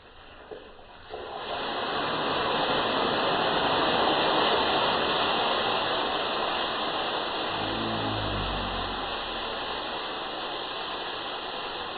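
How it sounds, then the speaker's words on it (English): Water poured into a hot cooking pan to deglaze it, bursting into a loud, sustained hiss and sizzle that swells and holds for several seconds, with a few low clunks near the end and no talk. "The water we've put on there now is completely just to pick up all that stuck to the bottom goodness."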